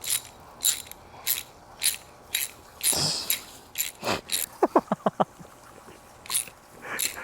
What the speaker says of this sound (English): So what we're showing you right now is Benny's first experience with a sprinkler